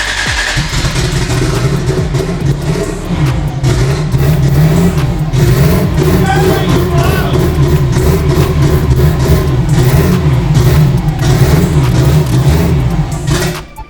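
A Toyota Supra engine runs loud and close with the throttle feathered, holding a steady rumbling rev with small rises and dips throughout and no pause.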